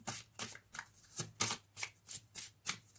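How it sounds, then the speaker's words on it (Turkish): A tarot deck is shuffled in a steady rhythm of about eight crisp card-riffling bursts, close and moderately loud, with no talking. "Şuradan bir kart çekmek istiyorum."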